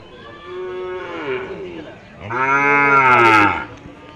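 A cow at a cattle market gives two drawn-out moos, the second louder and deeper than the first, close to the listener.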